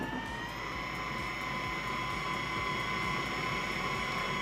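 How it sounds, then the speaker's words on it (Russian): The mops of a Roborock Qrevo Curv robot vacuum spin on its base, giving a steady mechanical whir with faint rhythmic ticks and a sustained tonal whine throughout. "Сейчас слышно, как вращаются мопы."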